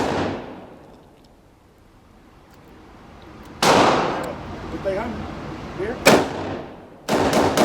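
Shots from a Smith & Wesson Model 60 revolver, with a loud report at the start that decays slowly, then separate shots spaced a few seconds apart, ending in quick rapid fire. The shots sound close and sharp.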